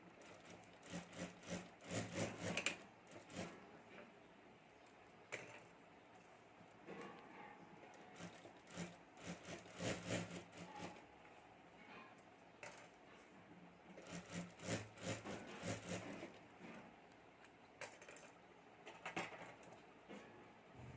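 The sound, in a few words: sewing both sides of a homemade luggage bag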